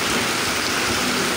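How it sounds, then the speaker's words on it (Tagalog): Heavy rain pours down steadily, a dense unbroken hiss of drops pounding surfaces close by. "This is real. Umuulan talaga."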